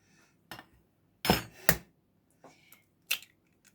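Preparing a mug cake: an egg is tapped against a mug or bowl and cracked open, with a few sharp clinks and knocks in a quiet kitchen.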